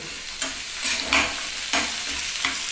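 Cumin and onion fry in a pan for a fish-roe bharta, a steady sizzle broken by a few soft scrapes and stirs of a spoon, close and continuous with no voices.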